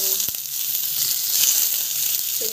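Mustard seeds, cumin, curry leaves, green chili and onion sizzling together in hot oil, a steady close-up fry hiss running evenly throughout with no talking.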